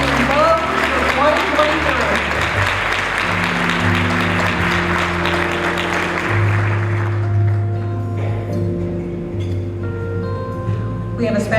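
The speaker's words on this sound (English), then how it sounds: "let's give a big round of applause to our debutants and beaux" Applause from a cotillion audience for debutantes and beaux, a wash of clapping under a voice and sustained background music tones, fading partway through.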